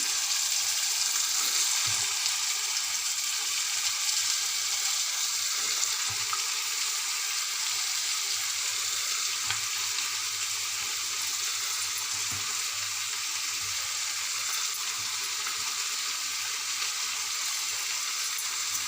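Chopped vegetables fry with softened onions in a pan for a tomato kuzhambu, giving a constant soft sizzle with a few faint stirring knocks, steady and unaccompanied by speech.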